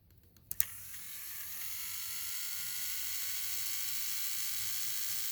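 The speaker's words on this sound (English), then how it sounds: "So let's give his motor a test quickly." A Trackmaster toy train's small electric motor is tested on its own: a couple of sharp clicks as it switches on, then a steady, close, high buzzing whine that holds evenly to the end with no talking.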